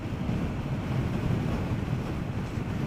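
Strong wind buffets the microphone on a motorcycle ride along a scenic hill route toward Valparai, a continuous loud low roar with no pauses and no other sounds breaking through.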